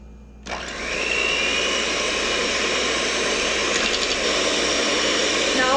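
An electric mixer whips egg whites for meringue, starting abruptly and holding a steady loud whirring whine throughout.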